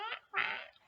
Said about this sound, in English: There was so many ducks on this property that were so freaking loud.